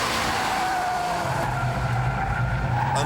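A fast car skids hard through a slow corner, tires squealing as understeer turns into oversteer, with the engine droning steadily throughout, close and loud.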